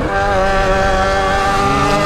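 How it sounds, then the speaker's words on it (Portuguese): A Yamaha XJ6 motorcycle engine roars at steady high revs, a loud, close, sustained buzzing drone with strong harmonic tones and no talk over it. "como que berra essa moto"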